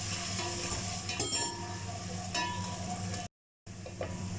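Garlic and ginger sautéing in a pot for chicken korma, a soft steady sizzle broken by metal spoon clinks against the pan, with one brief dropout.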